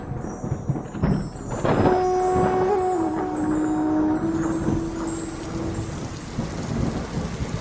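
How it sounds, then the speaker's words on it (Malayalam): Rain falls steadily through a forest with a broad, continuous patter, a low rumble like distant thunder, and a faint sustained tone running through the middle. "കാടുകളിൽ മഴ പെയ്യുമ്പോൾ"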